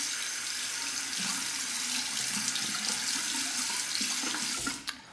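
A tap runs cold water into a sink for a rinse after a straight razor shave, a steady, close rushing stream that cuts off just before the end.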